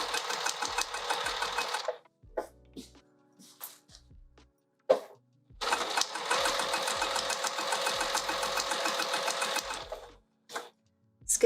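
A sewing machine binds the side of an open wide pouch in two steady runs of fast stitching, with a pause between them holding small clicks and handling noises, then a few faint knocks at the end.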